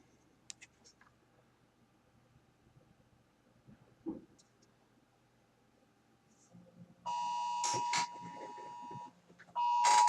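Phone Amber Alert emergency alert tone blaring in two loud harsh bursts after a stretch of quiet with faint clicks and small knocks.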